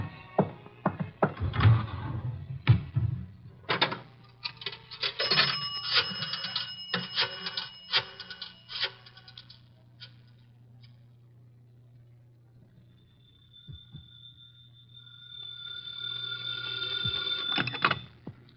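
Telephone bell ringing in a radio drama phone booth scene, several rings with clicks and handling sounds, a steady hum beneath, then a sustained high ring tone near the end.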